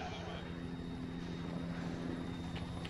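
A helicopter approaches in the ArmA 3 video game, heard as a steady droning rotor and engine rumble that holds at a constant level throughout, with no speech over it.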